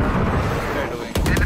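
Gunfire in an online shooter game rings out as a loud, dense burst of rapid shots at the end, after a stretch of heavy rumbling battle noise.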